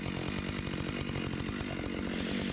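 A Husqvarna 592 XPG chainsaw cuts into a tree, its engine roaring steadily and close with a rapid pulsing chatter throughout, and the pitch climbs slightly near the end.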